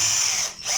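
A power drill bores a 2 mm hole through a part of a WLtoys 124018/124019/144001 RC car, a steady close high-pitched whine that dips briefly near the end before picking back up.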